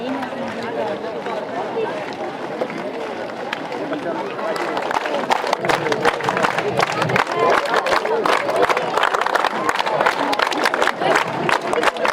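Student girl players at an Under-19 girls tournament closing ceremony give loud applause welcoming the chief guest, steady crowd clapping and cheering building in the second half amid general crowd noise.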